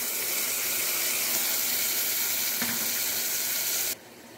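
Prawns added to a pot of biryani sizzle and hiss in a loud, steady wash of frying noise that cuts off abruptly near the end.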